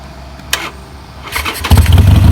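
A parked motorcycle engine is started, with a brief click and whirr of cranking before the engine catches and settles into a loud, rapid, throbbing idle close by.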